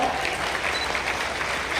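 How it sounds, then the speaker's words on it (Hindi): Audience applause at an outdoor government forest festival event fills the space as a brief, steady wash of clapping at moderate distance, with a speaker's voice over it. "आपकी तालियां रंग भरती हैं, इस आयोजन में जोश पैदा करती हैं"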